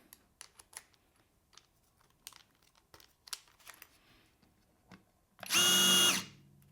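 A Skil Flip drill/driver drills with a 1/4 inch bit in one loud, steady whirring burst of about a second, preceded by faint clicks and handling noises as the bit is fitted.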